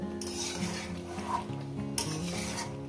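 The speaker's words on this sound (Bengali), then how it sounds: "আমার 5 মিনিট কষানো হয়েছে, আরো আমি 5 মিনিট কষাবো" Spicy chicken kosha with potatoes is stirred and fried in a pan, giving a continuous soft scraping and sizzling with occasional utensil scrapes against the metal, steady and moderately quiet.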